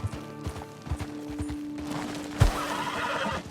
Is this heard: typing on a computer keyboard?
no